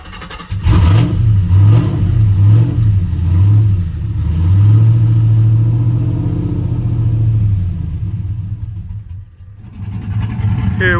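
A cammed 5.3 truck engine with its mufflers removed revs loud and close, pulsing through several throttle blips before settling into a longer sustained rev, then dropping toward idle.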